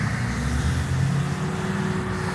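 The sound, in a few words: cars passing at accident scene on PGA Boulevard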